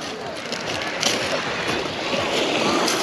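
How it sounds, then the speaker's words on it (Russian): Steady wash of Black Sea waves breaking nearby at Lazarevskoye, a continuous broadband roar with gentle swells and some wind buffeting, no voices. "Приехали на море."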